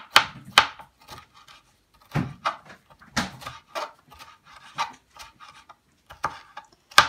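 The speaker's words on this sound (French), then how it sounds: "Je vais découper en tout petits carrés." A knife chops bell peppers into small squares on a board, giving a series of crisp, close taps in uneven bursts with short pauses between cuts.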